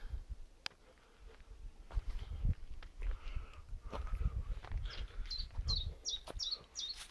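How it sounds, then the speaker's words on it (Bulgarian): A small bird sings in a spring forest along a walking trail, giving repeated short chirps at middle distance over the steady crunch of footsteps. "Много приятно, някакво птиче пее"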